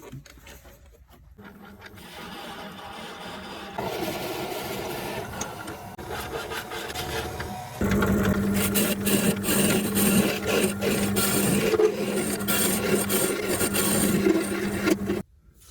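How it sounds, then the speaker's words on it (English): A power tool drills continuously into a tealight, grinding and whirring, growing louder and rougher partway through, with scraping rasps, then cutting off abruptly. "we're going to commence to try to drill that out."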